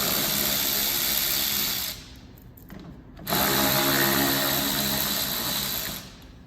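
A power tool whirs steadily while undoing splash guard fasteners with a 10mm socket on a 2024+ Toyota Land Cruiser 250, running in two loud bursts separated by a short quieter pause.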